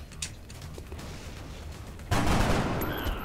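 Gunfire in the X-Com Enemy Unknown strategy game: a few faint shots early on, then a sudden loud burst of fire that rings out and holds to the end, with no talking.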